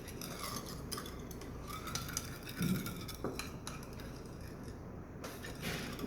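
Faint wooden scraping and soft knocking as a spoon stirs porridge in a pot, with undissolved sugar grating along the bottom in irregular strokes.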